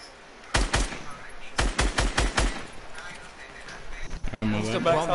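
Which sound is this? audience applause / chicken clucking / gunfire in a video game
gunfire in a video game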